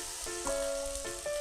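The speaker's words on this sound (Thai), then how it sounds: "เมื่อผัดน้ำพริกแกงหอมเรียบร้อยแล้วนะคะเราก็จะนำไข่ค่ะใส่ลงไปเลย" Eggs drop into hot stir-fried Thai curry paste in a pan, giving a steady close sizzle and frying crackle with a couple of brief louder bursts, no voices.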